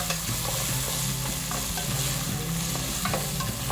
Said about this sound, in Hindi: आपने इस तरह से सौते करना है।